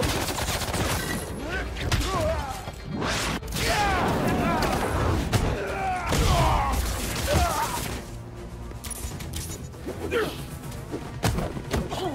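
Turret gunfire from the video game Spider-Man 2 clatters steadily amid crashes and impacts, under shouting game voices throughout.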